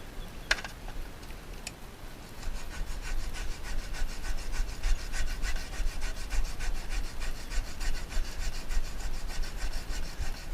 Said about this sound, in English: we'll trim our urethane with our trusty BTB tool, which I'm going to sharpen